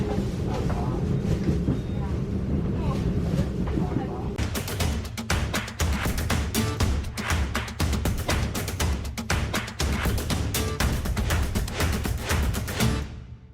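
Interior of the Argo Bromo Anggrek train running in Indonesia, a steady low rumble of the carriage with rapid clicking and clacking of wheels over rail joints growing denser midway.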